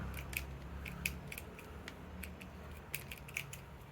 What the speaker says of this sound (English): not the best options for cutting roots